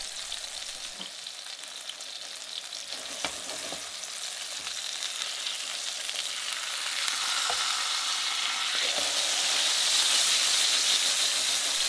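Sole pan-frying in oil, with the pan shaken to slide oil under the fish, makes a continuous hissing sizzle that builds louder over time. A few sharp knocks and shifts of the pan break through.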